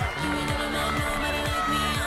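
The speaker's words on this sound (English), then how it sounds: "a lot of support here from the New Caledonian crowd for Arsene" Crowd at a youth lead climbing world championship in Noumea, New Caledonia, cheers and whoops steadily for a climber topping out, a sustained roar from a distance with music or a low drone underneath.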